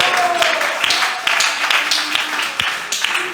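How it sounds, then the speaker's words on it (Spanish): A church congregation applauding, scattered claps and a mix of voices filling the room at moderate loudness, with talk running under the clapping. "Dele un aplauso a este Dios."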